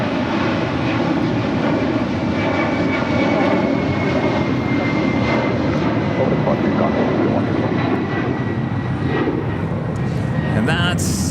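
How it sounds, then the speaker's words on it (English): A Virgin Atlantic Airbus A350-1000 jet roars loudly and steadily on its takeoff roll at LAX, the engine drone sustained throughout with faint voices underneath. "that's Virgin Atlantic Flight 8 heading back to London in an A350 1000"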